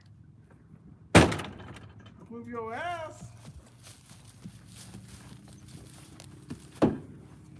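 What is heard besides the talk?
horse struggling and stepping in trailer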